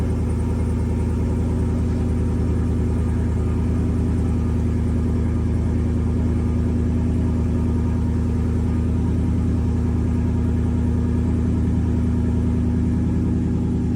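Pickup truck engine running at a steady idle, a close, loud, even low rumble throughout with no talking.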